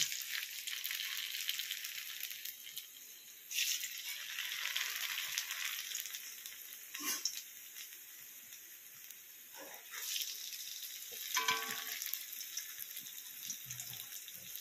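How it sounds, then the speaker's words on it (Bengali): Papads stuffed with potato and chhana fry in a little mustard oil in a kadai, giving a soft, steady sizzling hiss that swells briefly in a few louder bursts and has no talking over it. "এবার আমি কড়াইতে সর্ষে তেল দিয়েছি অল্প পরিমাণ, এবার আমি পাঁপড়গুলো ভেজে নেব।"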